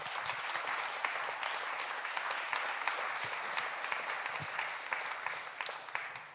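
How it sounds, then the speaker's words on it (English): Sustained audience applause for guests after a conference panel, steady dense clapping filling the room from start to finish at an even loudness. "Please give our guests a round of applause."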